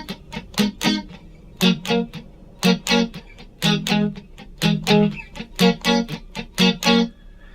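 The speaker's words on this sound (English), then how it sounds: "So when I strum, I'm pressing down the strings and then releasing them to get that muted sound" Palm-muted guitar chords strummed in a steady down-up rhythm, strings pressed and released for a choked, percussive attack; a long run of tight, evenly spaced chops, close and fairly loud, with no voice over them.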